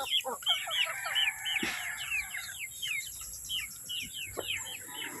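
Backyard chickens on a farm cluck and chirp together, several birds calling in overlapping bursts close by over a faint steady background hum.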